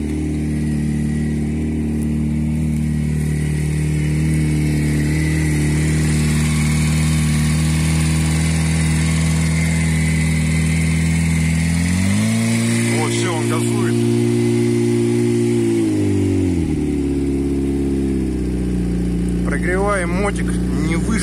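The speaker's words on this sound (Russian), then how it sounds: "Прогреваем мотик не выше, чем 2000 оборотов, не выше, чем двушка." A Kawasaki ZZR motorcycle engine idles steadily while warming up after its first start of the 2020 season, with the revs rising briefly midway before settling back. The engine is loud and close, and a voice speaks over it at moments.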